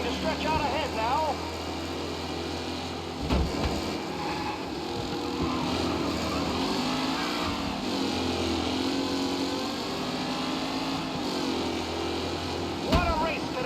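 Race cars in Mafia Definitive Edition drive past with a continuous engine drone and wavering revs. A couple of sharp thumps stand out along the way, and a commentator talks over the engines.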